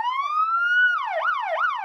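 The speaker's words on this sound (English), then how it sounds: "and blaring sirens are sights and sounds drivers rarely want to see." A police car siren wails up in a long rising sweep, then switches to fast rising-and-falling yelps, clear and fairly close with no talking.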